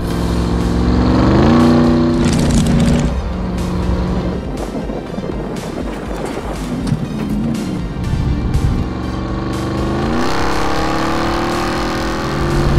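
A 2021 RAM 1500 TRX pickup driven hard off-road gives a loud, continuous engine roar, rising in revving surges near the start and again at the end, over a rough, rumbling bed of terrain and drivetrain noise.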